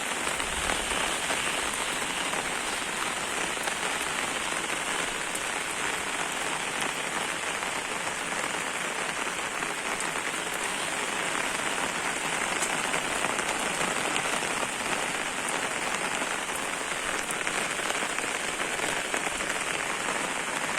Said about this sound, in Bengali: সকাল থেকে ভোর থেকেই বৃষ্টি, এখন পর্যন্ত বৃষ্টি শেষ হয় না